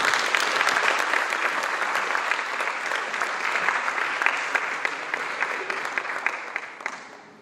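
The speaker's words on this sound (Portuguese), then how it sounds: "Uma salva de palmas." Loud, dense audience applause at a seminar-style event, steady and sustained throughout before fading slightly at the end.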